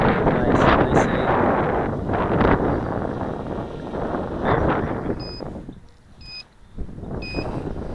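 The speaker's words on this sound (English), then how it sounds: "Now the wind picks up." Gusty wind buffets the microphone outdoors while a foam AXN Floater Jet RC plane flies on a windy day, loud rumbling bursts that ease off midway, with a few short electronic beeps near the end.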